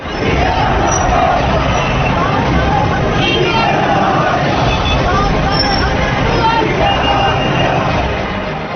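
A dense crowd fills the streets at a funeral in Pakistan, a loud, continuous hubbub of many voices with a steady low rumble beneath, staying uniform and close throughout.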